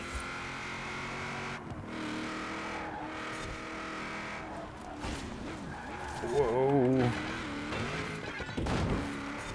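A race car in Forza Horizon 4 on a custom track drones with a steady engine tone that rises briefly in pitch, joined by a few knocks, while someone talks over it throughout.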